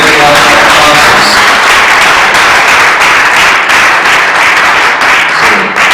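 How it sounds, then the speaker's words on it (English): Church congregation clapping at an RCCG Ogun Province family forum at Grace Assembly, a loud, dense wash of sustained applause filling the hall with voices mixed in. "let's clap for them, let's clap for our elders, and let's clap for our pastors."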